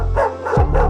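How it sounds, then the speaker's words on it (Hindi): Cartoon wild dogs surrounding a calf give a short burst of barking and yelping, loud and close, with no talk over it. "जंगली कुत्ते बछड़े पर हमला करने वाले थे।"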